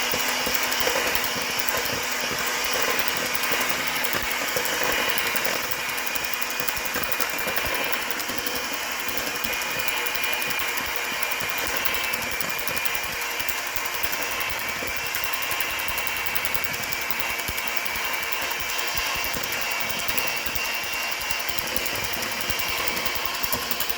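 An electric mixer beats cocoa, milk and powdered sugar into chocolate buttercream frosting, whirring continuously and evenly close by with a rattling mechanical texture and no talk.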